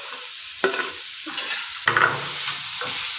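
Paneer bhurji with tomato, green chillies, salt and turmeric sizzles in a pan as a spoon stirs and scrapes it in a few close strokes, no voices.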